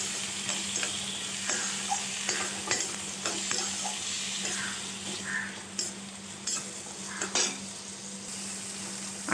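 A spoon stirring spiced broad bean pods (val papdi) in a pan with peanut powder and red chilli, giving repeated soft scrapes and clinks over a quiet, continuous sizzle.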